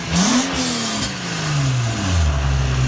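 A Nissan G35/350Z engine fitted with a Motordyne test pipe revs up and settles back, its deep exhaust tone climbing and falling in pitch, loud and close, with no talking.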